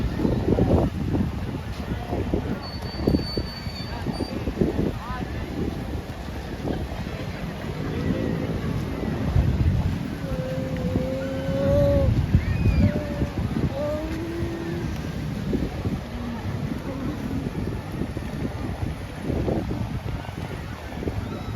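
Steady wind buffets the microphone outdoors at SM By The Bay near open water, a continuous low rumble with faint voices and distant boat noise underneath.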